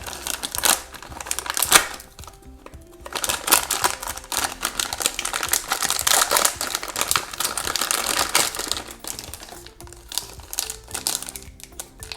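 A plastic surprise packet of Moji Pops toys is torn open and handled, producing close, busy crinkling and rustling with short pauses and no talk.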